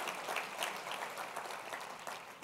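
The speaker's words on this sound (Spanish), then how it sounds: "dele palmas al Señor" Steady applause from a church congregation during a Spanish-language service, a dense wash of many hands clapping at even volume throughout, with no talking over it.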